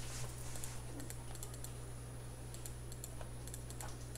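Keys clack on a computer keyboard while a CAD join command is typed and Enter is pressed, a quiet run of light taps in irregular bursts over a steady low hum and a thin high whine.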